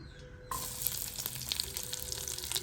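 Garlic dropped into a hot pan, a sudden burst of sizzling frying that starts abruptly and crackles on steadily, close by, with small popping spits scattered through it and no talk.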